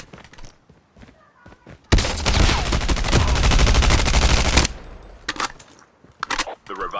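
Loud, dense burst of rapid automatic gunfire from a weapon in the Call of Duty Mobile video game, roughly three seconds of sustained shots, with quieter clicks and short taps before and after.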